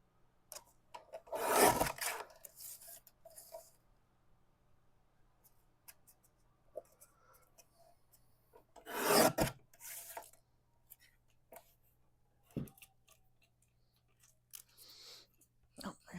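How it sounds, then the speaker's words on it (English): Card stock being cut down to size, two separate rasping cuts a few seconds apart, fairly close and clear, with quiet pauses and small handling noises between them. "I'm going to cut this down to 5 1/4 by 4."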